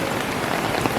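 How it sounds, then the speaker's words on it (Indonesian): Heavy rain pours down in a dense, steady hiss close by, a constant wash of drops hitting the surface, with no voices heard. "hujannya tambah deras teman-teman"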